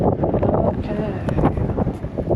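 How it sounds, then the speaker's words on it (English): Wind blowing outdoors at an abandoned, overgrown bungalow, a continuous rumbling buffet against the microphone, with a person talking over it. "and it's windy"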